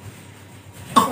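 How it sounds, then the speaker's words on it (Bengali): A boy with a bad cold lets out a single sharp, close cough after a quiet moment. "ছেলেটা প্রচণ্ড কেশে যাচ্ছে"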